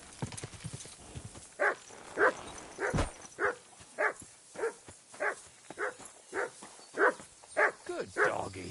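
A dog barks repeatedly in Kingdom Come: Deliverance 2, about a dozen evenly spaced, loud barks in a steady rhythm following a short spoken word.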